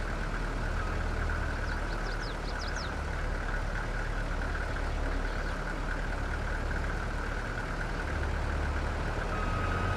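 A tractor engine in the farming game Farming Simulator 22, a steady low idling rumble with a faint continuous whine, running unbroken throughout.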